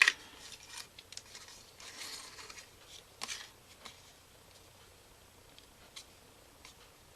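Scissors snipping through Graphic 45 Bird Song scrapbook paper, a few quiet crisp cuts near the start followed by faint intermittent rustles and snips, close and soft with no talking.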